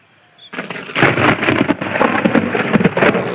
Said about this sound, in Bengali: দেখতেই পাচ্ছেন কি মেঘটাকে ডাকতেছে